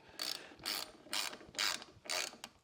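A ratchet wrench tightens a 12 mm bolt on a slip-on exhaust being fitted to a 2024 Honda Transalp motorcycle, giving five clear bursts of ratcheting clicks in a steady rhythm, close up with no talking.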